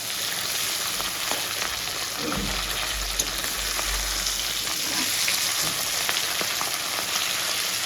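Mustard and poppy seed paste frying in a pan gives a constant crackling sizzle up close, with a few brief scrapes and a low thump partway through.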